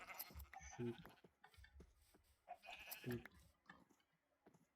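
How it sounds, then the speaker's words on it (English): Two short sheep bleats sound a couple of seconds apart over a steady background of Minecraft game ambience and soft footsteps. "Lots of sheep."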